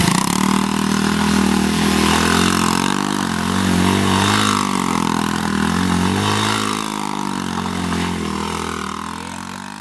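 A dirt bike engine revs loudly and continuously while spinning donuts, its pitch rising and falling in slow waves as the throttle changes, close and dominant, fading slightly toward the end.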